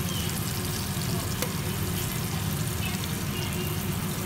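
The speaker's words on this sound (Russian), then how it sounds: "обжариваем их до золотистой корочки" Tomatoes frying in a pan for eggs with tomatoes, a steady close sizzle and crackle of oil that holds evenly throughout with no talking.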